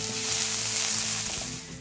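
Chopped onion sizzles in hot oil with fennel seeds, a dense, steady frying hiss close by with faint stirring and no talk.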